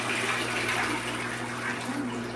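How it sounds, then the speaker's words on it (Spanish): Water is poured out in a kitchen while rice is being reheated, a steady rushing splash that runs continuously for a couple of seconds and fills the space with broadband noise. "Ahorita voy a botar el agua."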